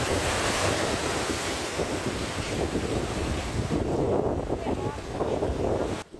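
Strong sea waves and currents roll onto a beach in the south under a red flag, a loud, steady roar of surf with heavy wind buffeting the microphone, continuous and close.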